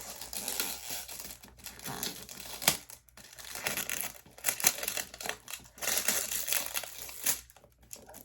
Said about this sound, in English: Let's get this unwrapped.